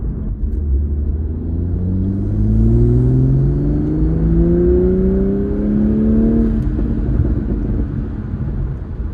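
Toyota GR Supra engine with a cheap aftermarket air filter, revving up in sport mode with manual gears, a rising turbo whir sweeping upward over a loud, steady close rumble heard from inside the closed cabin.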